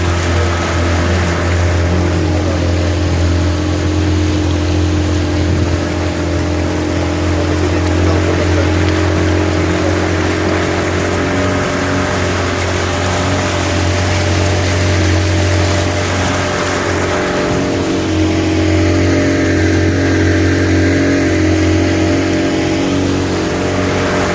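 A motorboat cruising on the Ravi river near an embankment, its engine giving a loud steady drone with a deep hum and water wash, unbroken and close for the whole stretch.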